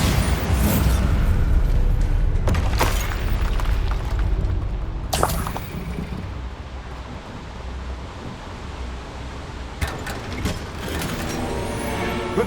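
Bombarda spell explosions in Hogwarts Legacy, a few loud bursting blasts standing out from a constant roaring, wind-like rumble, spaced several seconds apart.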